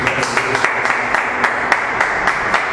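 A church congregation applauds during a Portuguese-language service, a dense, steady wash of hands with sharper claps popping out at regular intervals.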